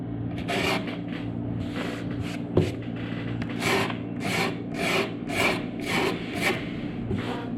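Repeated rhythmic scraping strokes forming a lip, each a short raspy rub like a tool dragged across a surface, close and fairly quiet over a steady low hum.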